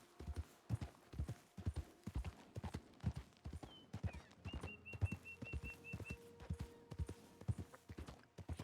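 A horse gallops in Red Dead Redemption 2 with steady rhythmic hoofbeats throughout, and a brief whistled tune rises over the clopping midway.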